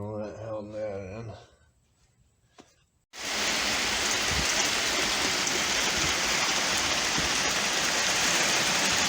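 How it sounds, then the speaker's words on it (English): Hail falling outside, a quarter inch or so in size. After a few seconds of someone talking, it begins abruptly as a loud, dense, steady rattling roar that continues to the end. "big hail. Well, not too big. Quarter inch at least."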